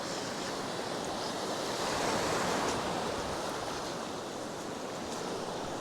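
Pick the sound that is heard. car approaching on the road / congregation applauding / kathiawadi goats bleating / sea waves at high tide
sea waves at high tide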